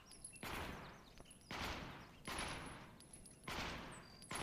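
Gunfire in the VR shooting game Aim XR: four bursts of rapid shots in a loose rhythm, each fading into a long tail, moderately loud over faint background sounds.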